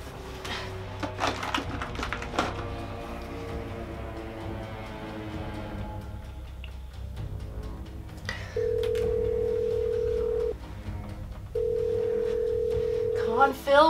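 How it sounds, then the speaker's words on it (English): A telephone line rings out twice in long, steady electronic tones, waiting unanswered, after quieter room sounds and clicks. "Come on, Phil, pick up the phone."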